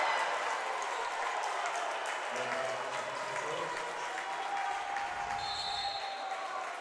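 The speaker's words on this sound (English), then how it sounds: "You can hear the roar of the crowd here on the Mustang side of the gymnasium." Crowd roaring and applauding in a high school basketball gymnasium, a steady wash of cheering and clapping at moderate level, with sneaker squeaks and faint voices under it.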